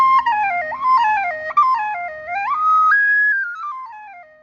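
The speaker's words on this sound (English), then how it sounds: "run it a few times so my body knows it's this size whistle" A tin whistle plays quick running scales and ornamented runs, bright clear tones rising and falling in close succession, then settling on a sustained held note, played near and alone.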